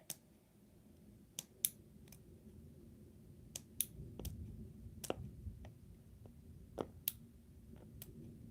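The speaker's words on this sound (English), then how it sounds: "I'm just going to be cutting up this hard plastic" Hard plastic is snipped in a series of sharp, close clicks and snaps at an irregular pace, each cut crisp and brief over a quiet background.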